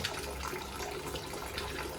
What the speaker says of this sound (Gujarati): બહુ અવાજ આવે છે નળનો, ધબક ધબક ધબક ધબક.